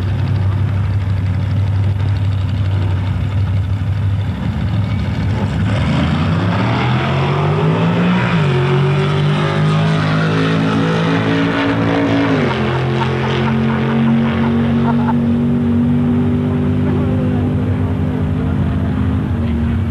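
A Chevrolet race car engine at the 1990 Alastaro street race idles loudly, then climbs through revs in stepped pulls, settling into a steady high drone with crowd and ambient noise beneath.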